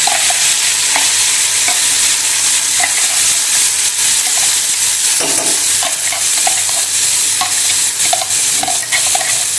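Spiced masala paste roasting in oil for Afghani egg curry, a steady close sizzle with repeated scraping and clacking strokes of a spoon stirring through it, no voices.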